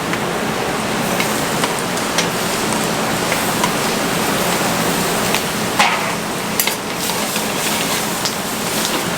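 Shrimp sizzling in hot oil in a pan for New Orleans-style shrimp, a dense steady crackle and hiss with scattered sharper pops and spatters, close and fairly loud with no talking.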